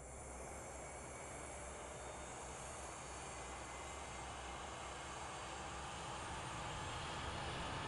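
Aircraft engines spool up in a flight simulator game, a steady, broad turbine roar with a whining hiss that holds constant and grows slightly louder toward the end, no voices.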